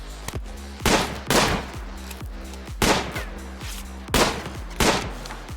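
Gunfire in the video game Rimworld comes as sharp, loud, separate shots, about seven over a few seconds in an uneven rhythm, each cracking hard and then decaying quickly over a low background hum.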